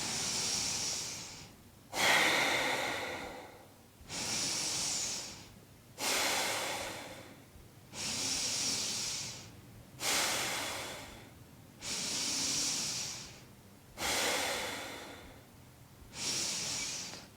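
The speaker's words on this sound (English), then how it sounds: "Exhale with force. Inhale with force. Stoking the inner fire." Forceful breath-of-fire breathing, alternating sharp exhales and inhales in a steady rhythm of about one cycle every two seconds, close and loud, with no talking.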